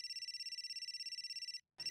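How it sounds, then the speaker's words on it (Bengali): A telephone rings with a rapid, pulsing electronic trill, a steady buzzing tone repeating in quick beats for about a second and a half before a brief pause, then starting again, clear and alone. "রাজা এখন কেন ফোন করেছেন?"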